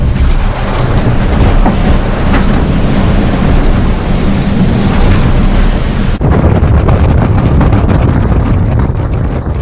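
Strong, steady 19-knot wind roars across the microphone aboard a racing sailboat at sea doing 14-15 knots, a constant rushing hiss and low rumble, loud and unbroken throughout.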